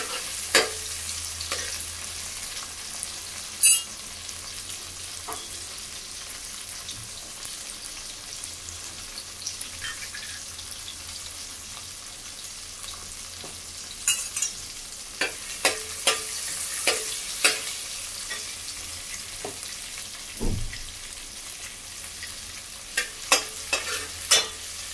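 Onions and tomatoes frying in a pan for a potato, pea and carrot curry, a steady soft sizzle with occasional stirring clinks and scrapes, close and fairly quiet throughout, with no talking.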